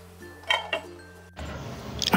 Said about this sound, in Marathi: आता आपल्याला झाकण ठेवायचं.